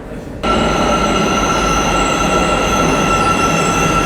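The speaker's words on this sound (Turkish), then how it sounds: "Gayet güzel, modern bir metro." An Almaty metro train rolls along its rails, a loud, continuous rumble with steady high-pitched wheel squeal, starting abruptly and holding close and unbroken with no talk.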